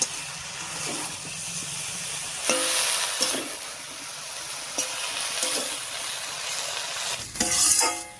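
Pumpkin greens and stalks hit a pan of spiced, fried potatoes with a steady close sizzle and hiss, broken by scraping stirs and a louder burst of frying near the end.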